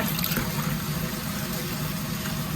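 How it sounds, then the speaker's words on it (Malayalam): Water poured over rice to soak it for fish biryani, a continuous close rushing and splashing flow that stays even and steady throughout. "വെള്ളം ഒഴിച്ച് ഇത് സോക്ക് ചെയ്യാനായിട്ട് ഇടവെക്കാം"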